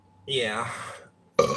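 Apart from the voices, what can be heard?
burp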